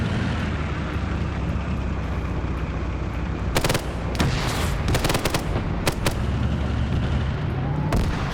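A tank and guns fire in an online war video game, sharp blasts and bursts of gunfire cracking over a continuous loud engine rumble, clustered in the second half with a few isolated shots.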